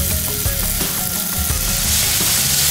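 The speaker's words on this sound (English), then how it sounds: "You can see the chicken's frying quite nicely." Chicken fries in a pan, giving a steady, loud sizzling hiss that runs the whole time alongside some rhythmic tonal background sound.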